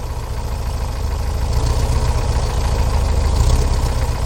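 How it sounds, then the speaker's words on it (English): A cold Volkswagen Type 3 engine idles steadily with a low, throbbing rumble that swells slightly partway through, running alone with no talk. "We're not returning the idle properly here."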